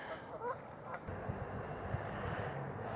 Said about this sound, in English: But this is the home of the Canadian Gooses.